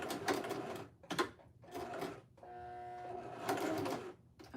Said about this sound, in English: the needle is going through the leather.